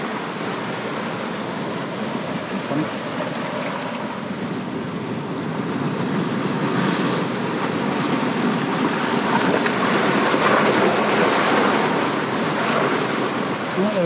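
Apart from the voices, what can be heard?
waves washing in on the shore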